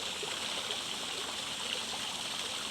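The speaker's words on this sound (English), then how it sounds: "waterfall." Garden waterfall splashing steadily at dawn, a continuous broadband rush of falling water that stays even and fairly close throughout, with no talk over it.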